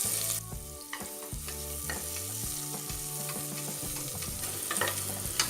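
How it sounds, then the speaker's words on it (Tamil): Chopped onion sautéing in hot oil for a vegetarian Tamil kulambu gives a constant close sizzle, with occasional stirring scrapes and a low rhythmic hum beneath, and no voices. "டிரான்ஸ்பரண்ட்டாக வர வரைக்கும் வதக்கிக்கோங்க."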